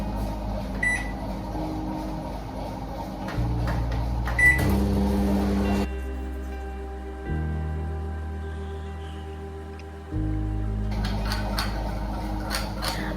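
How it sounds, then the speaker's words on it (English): A microwave oven hums steadily with low droning tones that shift pitch partway through, plus a few clicks and clatters near the start and end. "So I'm gonna microwave it for about"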